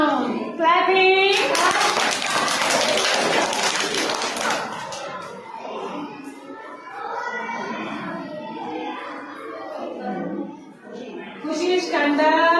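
Children in a classroom clap together, a dense burst of hand claps lasting a few seconds, with a voice and an adult speaking before and after.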